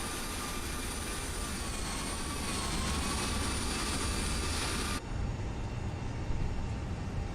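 Airbus A320 airliner taxiing at Zurich in a flight simulator game, a steady loud jet engine roar with a high whine that drops away abruptly near the end, leaving a lower rumble.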